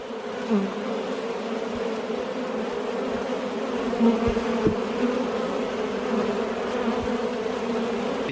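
A steady, dense buzzing of many honey bees drones on without pause, with a few louder passes as individual bees come near.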